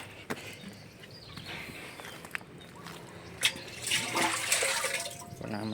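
Water drains and gurgles out of a frog-raising tank after its plug is pulled, a moderate splashing trickle with swelling bursts of rushing water, close by, with scattered knocks and faint handling sounds.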